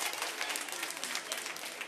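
Applause from a school audience for the Colegio La Cortina team at a points-based competition, a steady dense wash of clapping filling the whole moment at moderate loudness with no talk over it.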